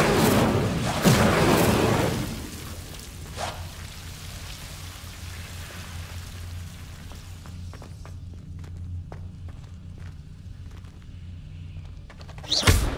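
A fire spell is cast in the wizarding video game Hogwarts Legacy: a loud, roaring burst opens, fades into a quiet ambience with scattered soft taps, and a second sharp burst flares near the end.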